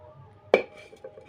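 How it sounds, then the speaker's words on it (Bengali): A single sharp metallic clack as a lid is set down on a pot of simmering egg curry, short and close, followed by faint kitchen rustle. "তো এবারে আমি এখানে ঢাকা দিয়ে দেব"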